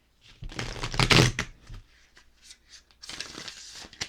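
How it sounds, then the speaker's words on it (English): Close, brisk shuffling of a moonology oracle card deck: a loud riffle at the start, then softer scattered card slides and a second crisp burst near the end. "One more shuffle."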